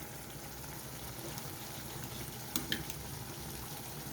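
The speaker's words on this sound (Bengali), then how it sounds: "এবারে এই মশলাটাও সমস্ত সব কিছুর সাথে কিছুক্ষণ কষিয়ে নেব" Ground roasted spices sautéing with tomato and potato in a pan for vegetarian ghugni, giving a faint, steady low sizzle with a couple of soft clinks near the middle.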